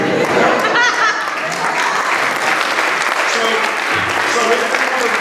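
An audience bursts into dense, continuous clapping at a business event, loud and close, sustained across the whole stretch with a voice faintly audible underneath.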